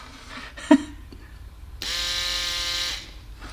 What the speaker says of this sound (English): This is fully functioning vane pump, which is run by electric motor.